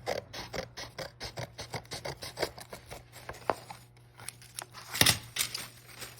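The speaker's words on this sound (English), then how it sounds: "you can actually just cut right into the cardstock, just along the edge" Scissors snipping through a decoupage napkin along the edge of cardstock for a handmade greeting card, a close, steady run of short crisp cuts and rustles with a sharper papery crunch near the end.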